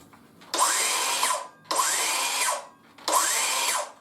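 A DeWalt 18V cordless power tool whirs up three times in quick succession, each short run cut off quickly by its electronic brake, heard close and alone.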